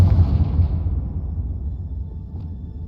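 Confringo blasting curse in Hogwarts Legacy going off as a loud, booming explosion at the start, its low rumble slowly fading over a few seconds with no talk.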